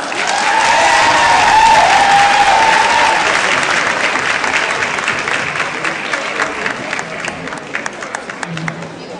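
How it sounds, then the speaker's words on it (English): A crowd applauds Miss Delma Wood and her husband after an Argentinian tango, loud sustained clapping with a tonal voice or whistle over it early on, tapering into scattered claps near the end. "Give them a hand of applause."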